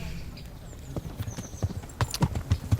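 A horse's hooves clip-clopping in the medieval video game Kingdom Come: Deliverance, the steps growing louder and more regular toward the end, with someone talking over them.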